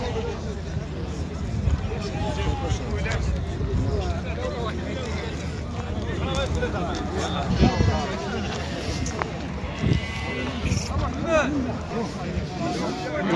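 Sheep and ewes bleat repeatedly amid a busy crowd at a weekly livestock market in Oujda, with steady babble and talking throughout and scattered calls rising above the din.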